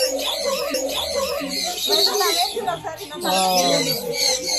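Birds at a pet sanctuary in Bangalore chirp and coo close by in a lively mix of calls, with people talking at the same time over them.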